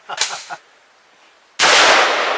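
Rounds fired at a ballistic barrier panel rated level 8 and 9: a few sharp cracking reports in quick succession, then after a pause a sudden loud burst of sustained rapid fire, close and harsh.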